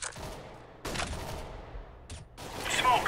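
Decoy grenade imitating gunfire in CS:GO on the Mirage map: scattered bursts of fake gunshots in separate volleys, mid-distance, over game ambience.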